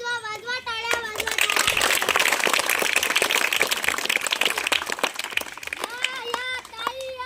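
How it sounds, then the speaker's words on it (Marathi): A school audience, children among them, claps in a dense burst of applause for several seconds during a Constitution Day awareness skit at a village primary school, with children's voices before and after. "टाळ्या वाजवा वाजवा टाळ्या वाजवा"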